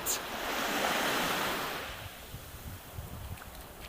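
Sea waves at Side, Antalya, Turkey: a broad wash of surf swells and fades, mixed with wind buffeting the microphone, with no voices.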